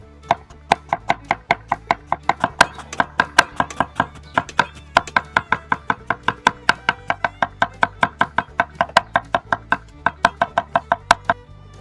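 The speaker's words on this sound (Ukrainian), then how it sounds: "Так, подрібнені ножки від шампіньйонів." A knife chops mushroom stems on a cutting board in rapid, steady strokes, dozens of sharp close knocks in a continuous rhythm with brief pauses.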